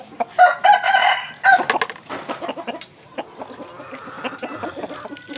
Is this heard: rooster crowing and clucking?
yes